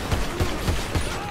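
Pistol gunfire in the video game GTA5: a quick run of about five evenly spaced shots cracking through a dense, noisy game mix.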